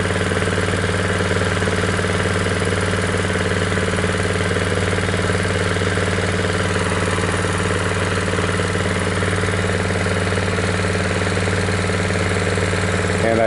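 A small gasoline water pump engine runs steadily and loudly up close, a constant droning hum with a faint knocking edge that holds without change throughout; no talking.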